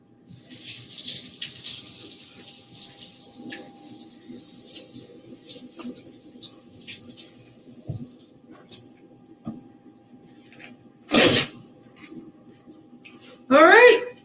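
Tap water runs steadily into a kitchen sink for several seconds, then stops; short splashes follow, and a voice speaks nearby.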